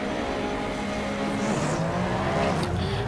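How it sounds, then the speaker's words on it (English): Porsche 911 RSR race car idling and blipping on the starting grid at Road Atlanta in the Assetto Corsa racing game, a steady loud engine drone with layered harmonics and a brief rising rev near the end. "Forming up on the grid here in the sublime sounding Porsche 911 RSR"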